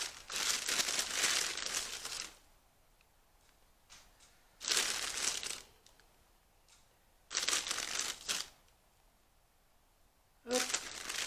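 Handfuls of potting soil scattered over freshly planted chives, coming as four separate bursts of dry crumbly rustling and pattering, each lasting one to two seconds and separated by near silence.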